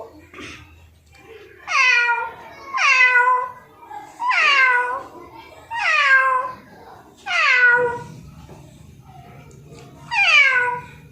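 A schoolboy imitates a cat, letting out six loud, drawn-out meows at steady intervals, each close and clear with short pauses between.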